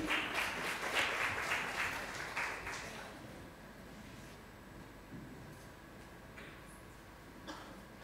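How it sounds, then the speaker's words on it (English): Audience applause for presenters at a women's design storytelling event: a burst of clapping in the first three seconds, fading into room murmur, with a brief spatter of claps near the end. "A round of applause to encourage them."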